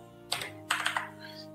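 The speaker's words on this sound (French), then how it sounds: "J'aime pas du tout le clavier que j'utilise maintenant, malgré que c'est mécanique et tout" A few quick keystrokes clack on a mechanical computer keyboard, close and fairly quiet, in two short bursts over a faint electrical hum.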